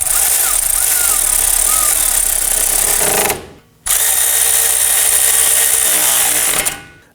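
A loud, close power tool whines steadily in two long bursts with a brief stop between them, driving down wheel hub bolts during a front wheel bearing and hub replacement on a 2018-2024 Toyota Camry.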